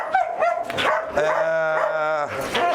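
Imported dogs bark and yelp at a farm, including Chinese Malinois and Charbonnier-type breeds, several loud close barks and a sustained whining howl in the middle, with bursts of barking at the start and end.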